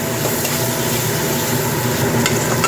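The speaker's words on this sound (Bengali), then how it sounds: "এর মধ্যে ভেজে রাখা আলুগুলো তুলে দিয়ে মশলার সাথে আরও দু মিনিটের মতো কষে নেব" Fried potatoes are stir-fried with masala in a pan, producing a steady close sizzle with faint scraping from stirring, brief and unbroken, with no voices.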